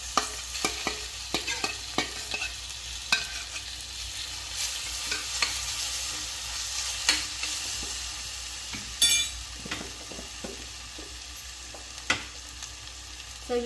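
A spatula stirs roasted eggplant bharit with coriander in a frying pan, giving a soft ongoing sizzle and a run of scattered scraping clicks and taps, close and fairly quiet.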